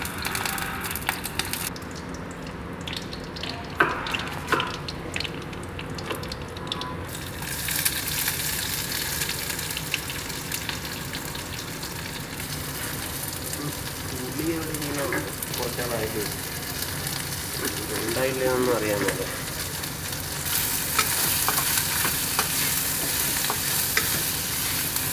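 Mustard seeds splutter and fry in hot oil while a spoon stirs the pan, producing a continuous crackling sizzle with scattered pops and scraping. It runs for about twenty-five seconds and grows brighter toward the end.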